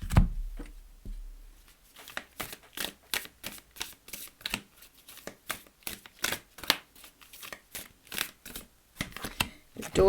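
Oracle cards are shuffled by hand close up, producing a quick run of crisp riffling flicks and soft taps in an uneven rhythm against a quiet room.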